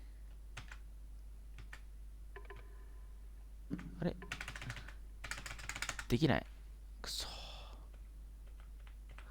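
Bursts of computer keyboard keys clacking, close by, in quick irregular flurries while playing The Beginner's Guide, with a person muttering briefly in between.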